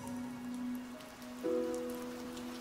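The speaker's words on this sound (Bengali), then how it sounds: "বৃষ্টিটা তখন একটু ধরেছে" Steady rain falls in a soft, continuous patter that stays at a moderate level, with a low hum running underneath and a brief swell partway through.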